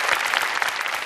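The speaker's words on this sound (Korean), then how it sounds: "박수 한번 부탁드리겠습니다" A lecture hall audience claps steadily in a dense burst that lasts about a second.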